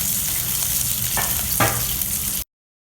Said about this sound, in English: Stir fry them all together. Along with this, we'll add sambar powder also.